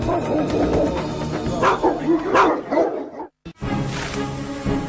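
Dogs bark and yip loudly and repeatedly in a dense, overlapping chorus set against Roman dogs of war, with a brief drop to near silence before the barking resumes, steady and close.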